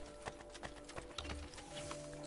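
Horse hooves clip-clop in Assassin's Creed Brotherhood, a steady quiet run of paced hoofbeats under faint game ambience, with no talking.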